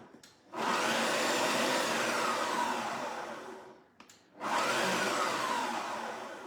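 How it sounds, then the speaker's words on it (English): A Magimix Cook Expert food processor pulses dressing ingredients in two bursts of loud whirring motor and chopping blade, the first about three seconds long and the second shorter, each starting abruptly and trailing off, close and alone. "Now I want it not finely chopped, just roughly chopped. So I'll just pulse it."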